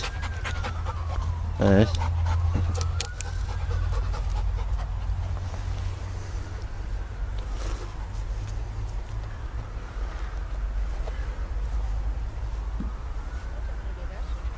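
A dog pants steadily and rhythmically close by throughout, near a forgotten cholera cemetery, while a person speaks briefly and a low rumble persists.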